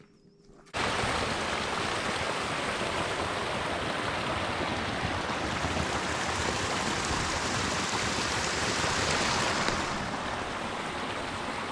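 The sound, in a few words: mountain stream water flowing on a snowy trail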